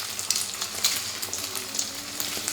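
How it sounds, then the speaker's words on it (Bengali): An egg sizzles in hot oil in a pan, a steady close crackle with scattered sharper pops and spatters, alone, without any talking. "এবারে ডিমটা ছেড়ে দিলাম"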